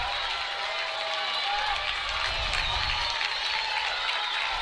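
A sparse Alabama softball crowd cheers and claps at a game, a steady wash of applause and voices heard at a distance, with a brief low rumble partway through.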